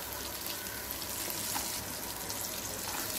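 Crushed ginger, garlic and curry leaves sautéing in hot oil for egg masala, a dense, even sizzle heard close and steady throughout with no voices.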